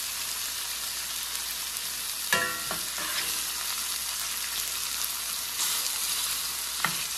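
Venison backstrap sears in butter in a hot pan, giving a steady close broadband sizzle and crackle with a few brief louder pops and spatters, no voices.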